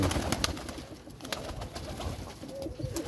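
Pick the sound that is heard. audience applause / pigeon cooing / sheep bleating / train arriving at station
pigeon cooing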